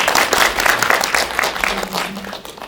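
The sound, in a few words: audience applause at a film screening talk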